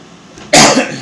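A single sharp, loud cough bursts out close by and lasts under a second.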